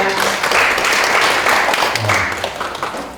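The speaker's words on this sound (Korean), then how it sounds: "여러분 큰 박수 부탁드립니다." Applause from the audience at an Ethiopia investment business forum: dense, fairly loud clapping throughout, with a voice briefly audible at the start and a low murmur underneath.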